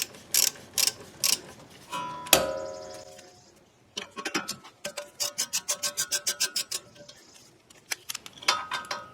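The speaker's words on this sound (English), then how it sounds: "you'll need a 7mm, you could call it a cap screw socket or an Allen wrench" A ratchet fitted with a 7mm cap screw socket loosens the rear brake cap screws on a Ford Escape, giving a close run of rapid, evenly spaced metallic clicks in bursts, with a sharp clank partway through.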